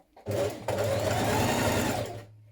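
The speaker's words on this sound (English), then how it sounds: "Stitch your side back to your back." A sewing machine stitches the side back panel to the back of a Vogue 9075 dress, one near continuous whirring run of about two seconds after a brief start, steady and alone with no voices.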